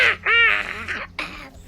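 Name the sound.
voice imitating a primal shriek in a jungle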